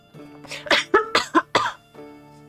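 A streamer coughs several times in quick succession, turned away from the microphone, with some throat clearing. The coughs are moderately loud and sharp, followed by a fading tail in a quiet room.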